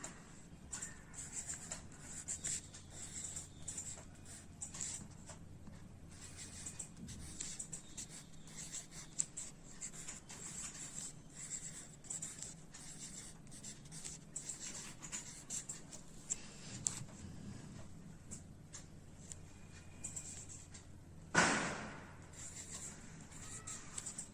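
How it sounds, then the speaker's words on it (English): Pen or pencil writing numbers by hand on paper for a first-grade maths lesson, a steady soft scratching of strokes throughout with brief pauses and one sharper tap near the end, close and quiet. "first we will write the larger number."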